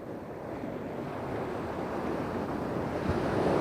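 Rough, choppy sea surging and breaking onto a beach during surfcasting with seaweed in the water, a steady close roar of surf with wind buffeting the microphone, building slightly louder toward the end.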